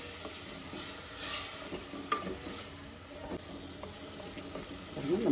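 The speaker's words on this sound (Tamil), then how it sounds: "ஒரு 1/4 டம்ளர் தண்ணி விட்டு போகிறேன்" A Tamil masala for Kerala-style coconut milk rice sizzles in a pan after a splash of water, with a soft steady crackle, occasional spoon scrapes and stirring clinks, and a light bubbling rise near the end.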